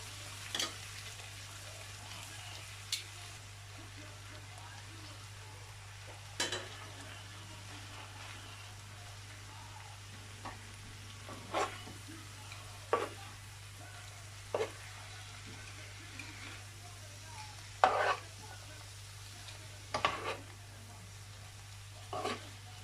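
Egg noodles for pancit canton tossed in a hot wok with seasonings: a low sizzle beneath a run of sharp, irregular clacks and scrapes from the stirring utensil, close and moderately loud.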